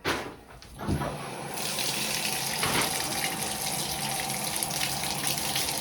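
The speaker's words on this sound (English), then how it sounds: "But I'm going to let the water run." Shower water runs steadily from a Delta shower valve, a loud, continuous broadband rush after a brief start, with no speech over it.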